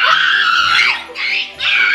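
A group of people scream together at a festive family gift-giving gathering, a loud sustained shriek that dips briefly and then swells again.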